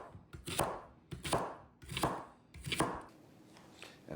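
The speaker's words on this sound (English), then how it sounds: "I do need a couple of leeks, just the white and tender green parts, which I will roughly chop" A knife roughly chopping the white and tender green parts of leeks on a board, with about five or six crisp, close chops in an uneven rhythm.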